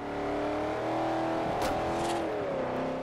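Lamborghini Gallardo engine in the Forza Horizon racing game, a steady loud harmonic drone that rises in pitch as it revs and accelerates, alone with no talk.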